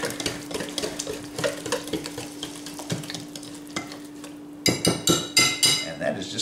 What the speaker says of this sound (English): Just whisking this up, getting some air involved in it.